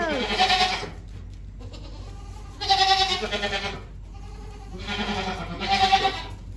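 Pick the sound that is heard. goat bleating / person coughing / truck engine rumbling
goat bleating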